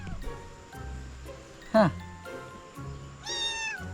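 A single short cat meow rises out of soft background voices and rustling, with a higher squeaky sound near the end.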